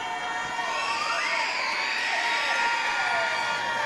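Arena crowd noise at a women's basketball exhibition game, a steady, dense wash of voices and cheering with occasional whistle-like tones, sustained and loud throughout.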